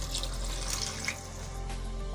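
Water from a glass is poured steadily into a cooking pot of keema aloo matar, giving a continuous splashing, gurgling flow at close range with no talk.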